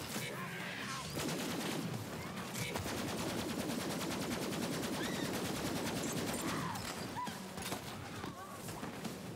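Sniper rifle fire in Borderlands 3 comes as bursts of rapid shots and crackling impacts, busy and sustained, mixed with game effects and some voice in the background.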